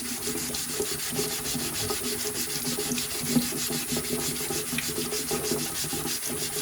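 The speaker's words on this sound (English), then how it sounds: "we're going to go ahead and start scrubbing" A travel-size Berkey water filter element is scrubbed by hand, a close, rhythmic rasping rub repeating in quick strokes with no talk.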